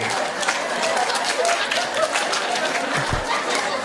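An audience claps hard during a group clapping game, a dense continuous burst of applause mixed with crowd chatter and a few chuckles.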